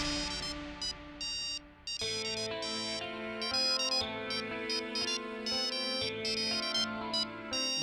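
A melodic phone ringtone plays loudly and repeatedly, a bright electronic tune looping with short rhythmic notes and no voices over it.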